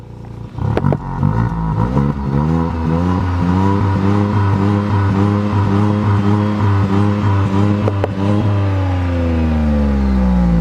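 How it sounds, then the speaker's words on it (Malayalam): Tata Altroz Racer hatchback with a 3-cylinder turbo petrol engine revving repeatedly, its exhaust note rising and falling through several loud blips before settling into a steady, strong drone, close and alone with no talk. "ടാറ്റ ആൾട്രോസ് റേസറിൻ്റെ എക്സോസ്റ്റ് നോട്ടിന് കാര്യമായിട്ടുള്ള വ്യത്യാസമുണ്ടെന്നാണ് ടാറ്റ മോട്ടോഴ്സ് പറയുന്നത്"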